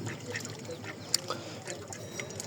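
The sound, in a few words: ducks quacking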